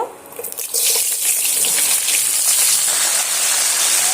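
Yardlong bean pieces hit hot mustard oil in a kadai and burst into a loud, steady hissing sizzle that starts abruptly and keeps going, close and alone.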